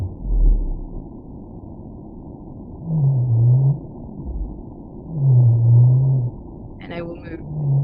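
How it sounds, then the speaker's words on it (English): Low, moaning underwater calls attributed to humpback or male North Atlantic blue whales, three drawn-out tonal units spaced a few seconds apart over a steady low ocean rumble, with a brief higher warble near the end. "It could be either humpback whales or some signals very similar to that have been also attributed to male North Atlantic blue whales"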